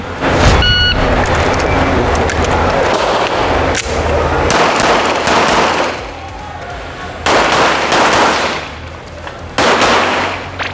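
Loud gunfire rings out at a shooting range, rapid repeated shots in bursts with sharp cracks and echoing booms, while people talk in between.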